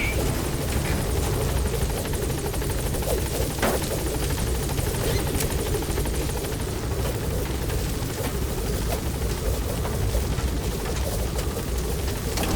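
A helicopter from Metal Gear Solid V approaches and holds at a landing zone, its rotor roaring as a loud, dense, steady wash with a rhythmic chop running unbroken throughout.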